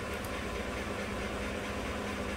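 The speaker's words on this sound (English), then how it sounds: "that was me starting the vehicle because the fuel rail pressure had been low" Steady idle of a 2015 GM truck's 5.3-litre V8 with low fuel rail pressure, a continuous low rumble with mechanical hum, close and even throughout with no voices.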